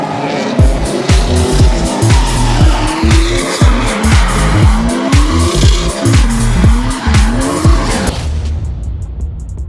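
A car engine revs repeatedly in rising surges while tires squeal and skid loudly during drifting, over and over, before the noise cuts off near the end.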